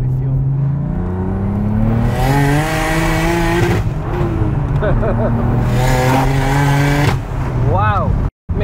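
A 660 bhp single-turbo BMW 335i engine revs hard through rising pitch sweeps, then cracks sharply with an exhaust bang on a gear change before pulling again; a voice is heard over it.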